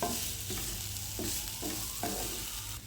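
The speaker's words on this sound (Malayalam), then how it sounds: "നമ്മൾ ചതച്ച് വെച്ചിരിക്കുന്ന തേങ്ങ ചേർക്കുക. ഇത് നന്നായി 1 മിനിറ്റ് ഇളക്കി യോജിപ്പിക്കുക." Crushed coconut for beetroot thoran is stirred in a hot pan, a soft continuous sizzle with a few distinct scraping strokes of the spoon, close and moderately quiet, no voices.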